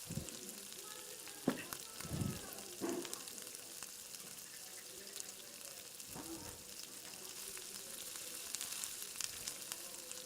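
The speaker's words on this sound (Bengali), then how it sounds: "এখন আমি কড়াইতে তেল দিয়ে দেব।" Oil heats and begins to sizzle in a kadai for a village bhindi fry, a faint soft frying hiss with a few quiet clinks and stirring sounds, low and close.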